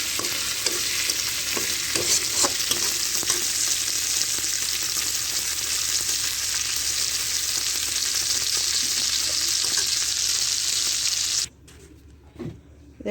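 Assorted fish frying in oil in a wok, a dense steady sizzle with occasional stirring scrapes, close and loud, cutting off abruptly near the end into quieter room sound.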